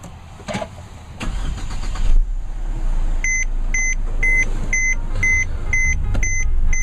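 Push-button start of a 2014 Mercedes-Benz C250: a brief starter crank and engine catch at about one second, then a steady idle hum, with a repeating electronic chime beeping at regular intervals through the second half.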